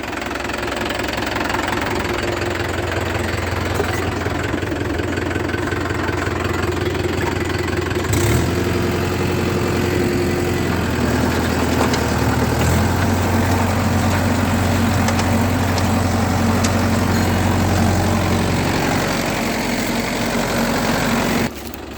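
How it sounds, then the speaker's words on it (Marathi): Yuvo Tech+ 575 tractor driving a Shaktiman rotavator at 540 RPM in a field after pigeon pea harvest, loud steady engine drone with knocking churn and shifting load, continuous and close. "540 RPM चालणार आहे ट्रॅक्टर"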